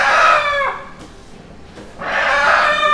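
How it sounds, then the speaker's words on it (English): A hen calls loudly from inside a box in a rural Kenyan village, two long, strident squawking bursts close to the microphone separated by a brief quieter pause. "this hen is really shouting in the box"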